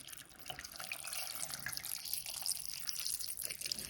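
Water runs from a tap in a steady, splashing stream over drained canned black beans, close by and fairly quiet, with light patter as it hits the beans.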